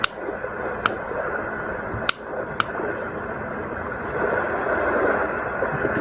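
A steady, full wash of rushing surf that swells slightly toward the end, broken by a few sharp clicks.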